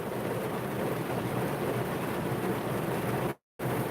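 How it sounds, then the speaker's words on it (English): Steady heavy rain pours down in Adelaide, a dense, loud, even hiss that fills the clip without a break until a brief dropout near the end. "Still raining."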